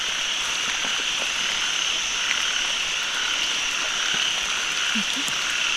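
Frogs croak steadily in the rain in a rural wet-season setting, with rhythmic calls from several animals over a constant shower hiss and scattered raindrops.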